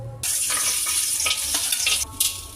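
Cashew nuts frying in ghee give a loud, steady sizzle with brief stirring scrapes throughout.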